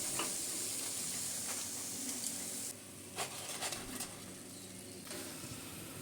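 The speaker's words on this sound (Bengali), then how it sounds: "বাকি মিষ্টিগুলো আমি খুব ভালো করে তেল ঝরিয়ে তুলে নেব।" Semolina sweets sizzle steadily in hot oil, a constant bright fizz that drops off partway through as they are lifted out, with a few soft scrapes and clicks afterward; no speech.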